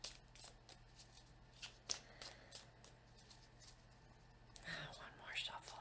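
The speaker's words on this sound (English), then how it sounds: "One more shuffle." Close, crisp riffling and flicking of playing cards being shuffled in quick bursts, with soft whispered voices and light handling noises.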